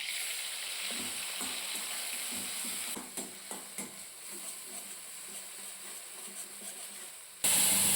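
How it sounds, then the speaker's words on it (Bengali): Onion, garlic and green chili paste sizzles in oil left from frying fish, a steady close hiss with small crackles that settles lower midway before a loud burst of sizzle at the end. "ওই মাছ ভাজা তেলের মধ্যে দিয়ে দেবো পেঁয়াজ,"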